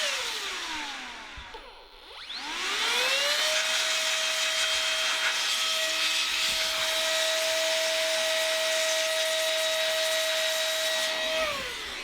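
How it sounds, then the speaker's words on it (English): A small electric blower spins up and whines steadily as it blows dust out of a wood router, a loud close high-pitched whirr that dips briefly at the start and then holds evenly for about nine seconds before winding down. "you can take your little blower and you can blow this thing out"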